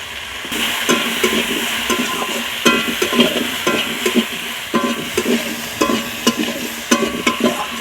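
A pan of fish curry with Japanese puti fish, salt and turmeric being stirred, a loud hissing sizzle under repeated scraping and clanking strokes of a spatula against the pan, no voices.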